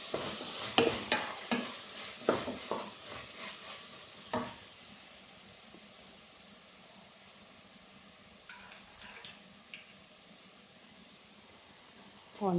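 Curd being stirred into a chicken biryani base in a cooking pot: a run of close scraping stirs early on over a faint sizzle, then quieter, sparser strokes.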